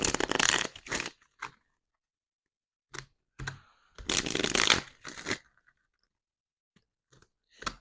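Tarot cards shuffled in bursts of crisp riffling and flicking, close and fairly loud, with quiet gaps between them and a few faint taps; no talking.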